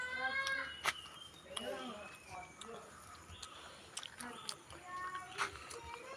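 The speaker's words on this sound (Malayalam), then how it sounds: "അമ്മേനെ മീൻ മുറിക്കാൻ പറയാണ്ട് പൂച്ച ചുറ്റും കൂടിയിട്ടല്ലോ" Cats crowd around while fish is cut at home in a Kerala village, giving several short meows and mewing cries scattered over a few seconds, close and fairly quiet, with soft voices and handling noises in between.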